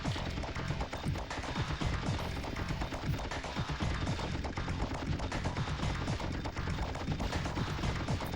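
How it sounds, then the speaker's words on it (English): Relentless, dense machine gun fire and explosions from the top-down shooter video game Apocalypse, loud and continuous without a pause, mixed with game music. "And now I've got a machine gun"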